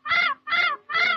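A bird gives three harsh, crow-like caws in quick succession, each loud, close and evenly spaced, with no talking over them.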